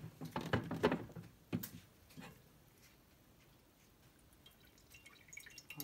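Water being poured out, with a few close splashes and drips early on, then fading to quiet with faint small sounds.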